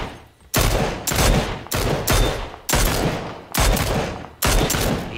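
Bursts of video game gunfire, loud and close: six or so sustained rapid volleys, each cut off sharply by a brief gap, with no talking over them.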